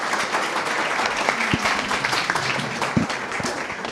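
An audience applauds a speaker named Leobardo at a UFO and extraterrestrial contact gathering, steady dense clapping throughout with a few louder individual claps standing out near the front.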